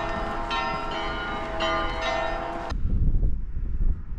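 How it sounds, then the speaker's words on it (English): Morning church bells in Santorini ring out loud and resonant in repeated overlapping strikes, then stop abruptly, leaving a low rumbling outdoor background. "How about these bells as an alarm clock in the morning?"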